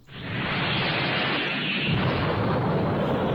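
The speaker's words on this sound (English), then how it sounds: "Okay, we got an explosion." A cartoon explosion from an animated pony episode, a sustained loud broadband roar that swells within the first half second and rumbles steadily to the end, with no talk.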